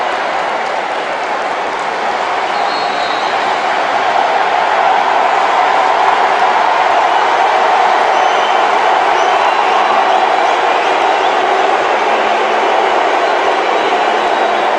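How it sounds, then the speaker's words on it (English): A football stadium crowd at a Nigeria versus Ghana Unity Cup match makes a loud, continuous roar and cheer that holds steady throughout, with no clear individual voices. "Well, listen to the crowd here."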